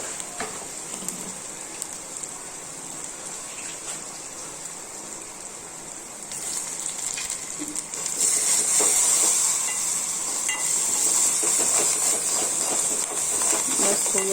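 Onions frying in a pan with red chili, lemon and coriander for dal bati, a steady bright sizzle that grows louder and hissier midway, with faint stirring and occasional talk underneath.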